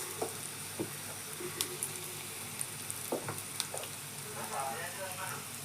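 Spiced chilli masala of Kashmiri chilli powder and salt sautéing in hot oil in a pan for a sardine chilli dish, a steady close sizzle with light stirring scrapes and clicks throughout.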